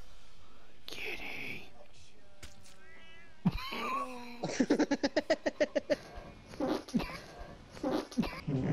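A cat meowing indoors among people talking and laughing, with a drawn-out meow followed by a quick series of short clipped sounds and more vocal bursts, mixed with the chatter.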